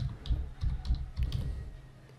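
Computer keyboard typing at close range, quick bursts of clacking keystrokes in an uneven rhythm with short pauses between them.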